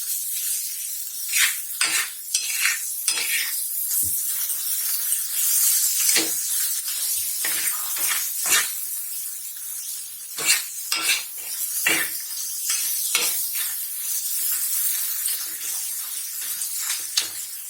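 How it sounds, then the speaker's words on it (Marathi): Masala for boiled egg bhurji fries in oil with tomato, giving a constant hiss of sizzling broken by frequent sharp scrapes and clinks of a spoon stirring against the pan, close and fairly loud. "आपल्या मसाल्याला तेल सुटलं पाहिजे, असं इथपर्यंत फ्राय करायचं"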